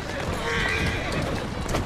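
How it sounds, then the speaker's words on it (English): Horse hooves pound in a steady galloping rhythm with a whinny in Assassin's Creed Syndicate, up close and continuous, under a constant layer of talk. "Slow down the horse."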